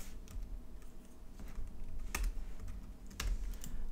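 Keys clatter on a computer keyboard while coding a user profile page, a close, uneven run of clicks with a few sharper, louder strikes.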